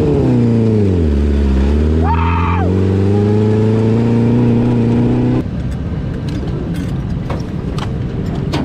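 Non-wing outlaw micro sprint cars roar through a heat race, engines revving hard and sweeping past close and loud. The pitch climbs and falls, then gives way to a rougher, steady engine drone.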